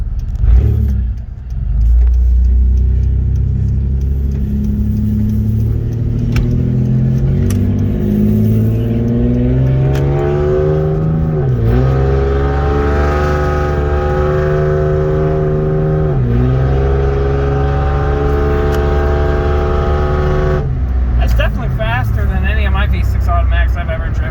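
A modded Toyota Camry with a short ram intake accelerates hard through its gears, engine note climbing steadily then dipping briefly at each shift before rising again, loud and continuous inside the car with a person talking over it.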